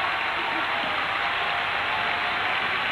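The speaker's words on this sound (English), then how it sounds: "Now listen to the crowd." A crowd at a sumo wrestling match applauds in a dense, sustained wash of clapping, steady and even from start to finish.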